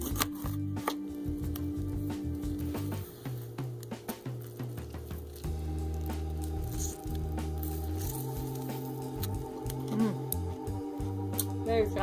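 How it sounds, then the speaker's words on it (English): A knife cuts green cabbage into thin strips on a board for pupusa curtido, with rapid close chopping thuds and crunchy squishes under steady background music, fairly loud and continuous. "I'm just going to try to make cabbage strips."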